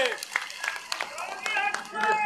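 An audience claps and applauds at a Haryana Congress joining event in Palwal, a dense patter of hands throughout with a voice carrying over it.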